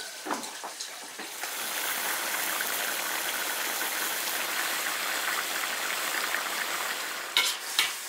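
Duck and radish cook in an iron wok, giving a steady bubbling sizzle throughout, with a few clattering knocks at the start and end, close and moderately loud, with no voices.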